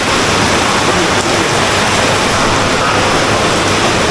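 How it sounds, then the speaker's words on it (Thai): Loud, dense roar of heavy rain pouring steadily at night in Mae Kampong, Thailand, with a continuous rush of water flowing along the road, no voices. "แม่กำปองต้อนรับเราได้โหดมากฝนตกหนัก"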